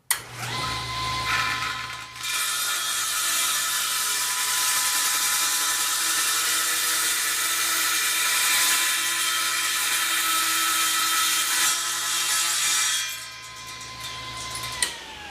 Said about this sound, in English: Then just turn the table saw on and here we go.